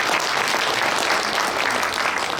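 Guests are welcomed with applause at a book-launch lecture in the Korea Press Center. Even, dense clapping from a seated crowd runs unbroken throughout.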